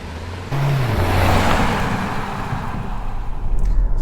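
A 2022 Hyundai Tucson Limited Hybrid drives along, its engine and road noise rising quickly into a loud, steady rush that holds throughout.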